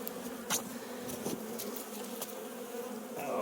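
Honey bees buzz inside a beehive, a dense continuous drone close by with occasional brief louder passes of individual bees.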